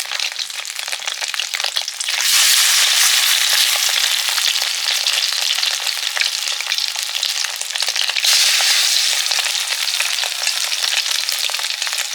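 Fish roe fries in a pan with a loud, continuous crackling sizzle, dense popping throughout, swelling louder after a couple of seconds and staying strong with no voices.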